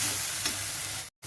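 Sliced okra with turmeric and tomato frying in a pan, giving a steady, close hiss of sizzling oil with faint stirring, which cuts off briefly near the end.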